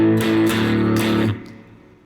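Blues rhythm guitar pattern in A, a short chugging figure of a few strummed beats that rings out and fades, with no talking.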